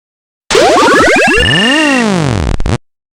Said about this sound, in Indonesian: Nah, kayak suara naik level gitu ya.